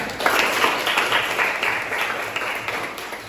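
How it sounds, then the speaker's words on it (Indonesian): Students in a classroom clap together for their teacher's results, a steady patter of close hands lasting a few seconds. "Untuk beri tepuk tangan untuk semuanya."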